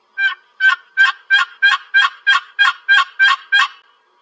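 A rapid run of eleven evenly spaced turkey yelps from a box call, quick and rhythmic, loud and close with no talking.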